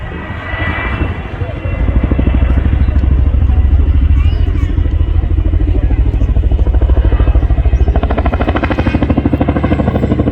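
Helicopter hovers at an air show with a loud, close rotor chop whose steady rapid beat fills the whole stretch, while a voice talks faintly underneath.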